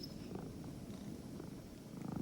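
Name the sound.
cat purring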